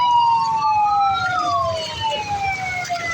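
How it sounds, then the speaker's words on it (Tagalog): Emergency sirens from an ambulance and a fire truck stuck in flooded traffic, two wailing tones sweeping up and down together, loud and steady over a low rumble of road noise throughout. "Ambulansya at fire truck."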